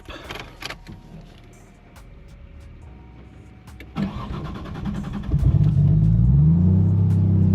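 An RB25DET-swapped Nissan 240SX cranks with a whirring starter and then fires up, settling into a loud, rumbling idle close by with no voices.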